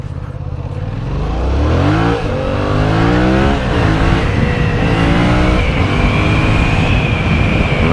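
Yamaha MT-07 motorcycle starts up close by, its engine climbing through several sharp revs with rising and falling pitch before settling into a steady, loud throaty run, no voices over it.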